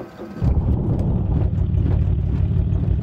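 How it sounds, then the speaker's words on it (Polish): A propeller aircraft engine in the X-Plane 11 flight simulator starts: a short quiet moment, then the engine catches and settles into a steady low rumbling idle that runs on. "Zalejemy silnik od śmigła."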